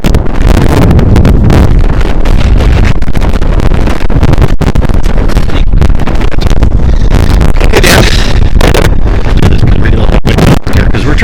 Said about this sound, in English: it's definitely windy out here, that's for sure